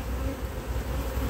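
Honeybee colony buzzing steadily during a spring hive inspection, a dense continuous hum of many bees close by with no voices.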